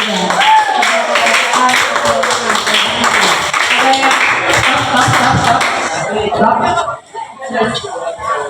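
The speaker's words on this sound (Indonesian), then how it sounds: "Tepuk tangan dulu untuk kelompok 3." A class claps hands for a student group during a classroom guidance session on teen social ethics, a dense, steady patter of many hands under talk and chatter, fading out near the end.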